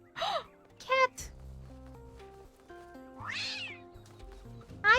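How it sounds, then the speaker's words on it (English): A cat in the video game The Talos Principle 2 meows several times, loud and near, the cries rising and bending against a soft backdrop of sustained musical tones. "Why does the cat hate me?"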